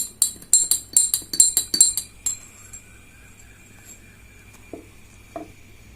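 A spoon stirs vinegar and water in a glass, giving a quick, rhythmic run of bright clinks against the glass for about two seconds before it falls quiet, with a couple of faint taps later.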